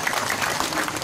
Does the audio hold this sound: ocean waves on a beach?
no